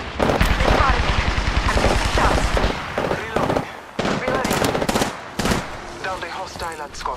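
Rapid automatic gunfire bursts in Apex Legends, dense and loud, with a sustained volley up front followed by shorter punchy bursts and pauses, mixed with game effects.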